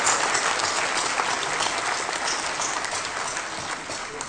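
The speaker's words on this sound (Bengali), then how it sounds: "সবাই তাদের জন্য একটু জোরে হাত তালি সবাই।" An audience at the Ekushey Padak award ceremony in Bangladesh applauds loudly and steadily, a dense sustained clapping that eases slightly toward the end.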